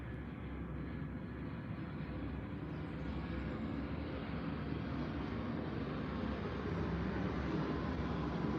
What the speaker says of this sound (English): a plane is coming